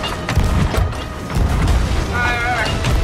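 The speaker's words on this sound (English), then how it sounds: "Fire a second cannon! Fire the other cannon!" Cannon fire in the pirate video game Sea of Thieves, heavy booming blasts repeating in a chaotic fight, loud and dense, with excited voices shouting over them.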